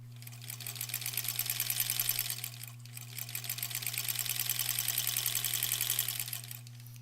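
A sewing machine runs in two steady bursts of rapid stitching through quilt blocks for a granny squares quilt, with a brief pause between runs and a constant low mains hum underneath.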